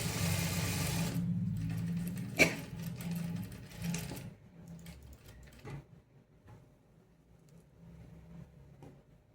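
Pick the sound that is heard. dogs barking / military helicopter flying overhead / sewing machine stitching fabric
sewing machine stitching fabric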